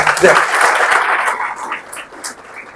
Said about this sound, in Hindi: तो इस ग्रुप के लिए आप लोग तालियां दीजिए